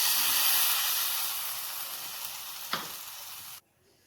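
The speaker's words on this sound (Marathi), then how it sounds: "आता आपण त्यात पाणी टाकून देऊया" Water poured into spiced masala frying in a pan for a Maharashtrian katachi amti, giving a loud, steady sizzle and hiss that fades slowly, then a brief clink before the sound cuts off sharply.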